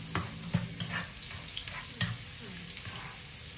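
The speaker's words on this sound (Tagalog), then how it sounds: "Mas magandang i-brown natin ng konti yung garlic para mas masarap" Garlic browns in a hot pan for a cherry tomato pasta, giving a steady soft sizzle broken by a few sharp stirring clicks and scrapes, close by with no talking.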